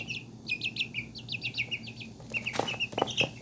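An ornamental chicken crossed with a pheasant clucks in a quick rhythmic series of close, fairly loud calls, followed by a few sharper chirps and rustles near the end.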